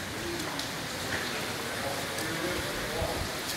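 Heavy rain pours down in Jerusalem's Old City along the Via Dolorosa, a steady dense hiss of falling water and splashing that runs unbroken throughout.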